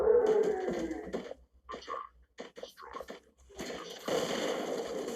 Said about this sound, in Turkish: Patlama.